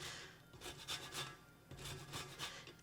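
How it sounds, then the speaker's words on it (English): Soft, quiet rasping strokes come in short rhythmic bursts as a lime is grated against a zester, close and gentle with no talking. "And then I'm just gonna zest the lime"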